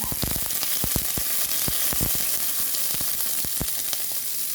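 Garlic sautés in hot oil in a kawali, a dense close-up sizzle with sharp crackles and pops scattered throughout, no talk over it.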